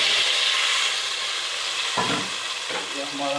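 Tadka tempering sizzles in hot oil for kadhi pakora, a loud steady frying hiss broken by sharper crackling bursts as ingredients hit the oil, close to the pan.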